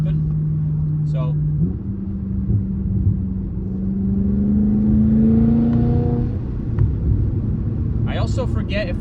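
BMW F10 M5 engine breathing through a Turner muffler-delete exhaust, a steady low rumble from inside the cabin with the roof open that rises slightly in pitch as the car pulls, with brief voices near the start and end.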